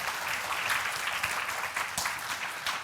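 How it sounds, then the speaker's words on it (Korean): A church congregation claps during an intergenerational worship service, a steady, moderately loud wash of applause lasting a few seconds with no talking. "박수 한번"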